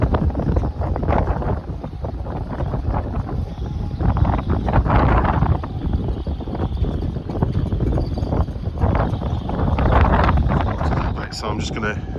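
Strong wind buffets the microphone at the seaside in Sunderland during early-morning whiting fishing from the shore, a loud continuous rumble with gusty swells throughout, and a person speaks over it.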